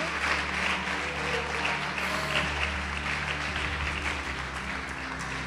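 Church congregation applause during a worship service, a steady wash of clapping layered over sustained music and low hum, even and continuous from start to finish.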